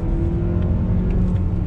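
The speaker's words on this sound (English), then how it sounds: "Back on throttle." Mazda CX-30 engine, a 2020 model in sport mode, revving steadily as the driver gets back on the throttle, a close, smooth, even drone heard from inside the cabin.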